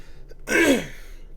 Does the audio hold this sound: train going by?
no